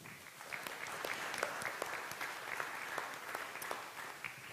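A live audience at a community event hall gives faint, distant applause, with individual claps picked out against a soft steady wash for a few seconds.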